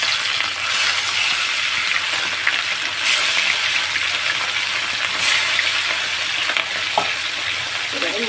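Rohu fish pieces sizzle steadily in hot oil in a kadai, a loud close continuous frying hiss with a few scattered crackles and taps, no talking.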